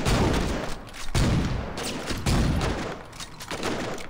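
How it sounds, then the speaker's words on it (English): Shotgun fire in the video game Saints Row, with a few heavy booming blasts about a second apart, each followed by a noisy roar, loud and close throughout. "Let's go and take out the shotgun."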